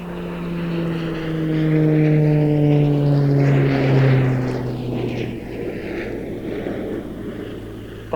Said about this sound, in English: He's now flying out on what we call the B axis, taking the aircraft away from us